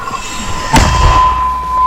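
A single sharp report bursts out on a Donetsk region frontline in 2022, a distant gunshot-like crack over steady background hum and a faint whine.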